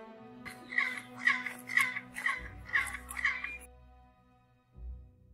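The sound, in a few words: clap echo from a staircase resembling a quetzal's cry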